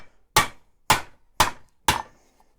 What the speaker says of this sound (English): you start hammering it over these